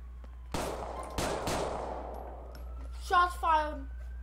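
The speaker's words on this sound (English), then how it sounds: "Shots fired." Gunfire in the video game GTA IV during a police patrol in a New York City setting: three sharp, loud shots with ringing tails, followed by two short warbling electronic blips.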